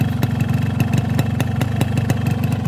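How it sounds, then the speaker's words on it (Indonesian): A two-stroke motorcycle engine running on Ultraline Racing 2T oil after touring, a close, crisp idle with a rapid even pulsing beat and sharp periodic pops, steady in level throughout. "Suara mesin pun garing teman-teman ya, garing dan gak berisik"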